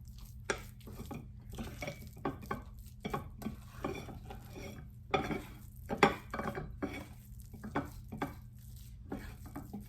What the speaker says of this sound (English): I can already see the pieces of cookie mix here as I am folding it over.